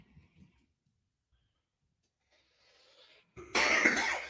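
After a few quiet moments with faint sounds, a single loud, harsh cough bursts out close by near the end.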